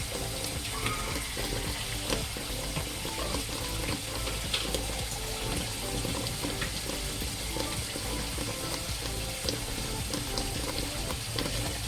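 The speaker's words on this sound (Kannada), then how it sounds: "ಮಿಕ್ಸಿ ಜಾರಿಗೆ ಸ್ವಲ್ಪ ನೀರು ಹಾಕ್ಕೊಂಡು ಅದನ್ನ ನೀರನ್ನ ಹಾಕ್ತಾಯಿದ್ದೀನಿ." Water pours steadily into a mixer jar in a home kitchen while fish sambar is being made. It makes a continuous splashing, hissing stream that is close and even for several seconds, with no talking.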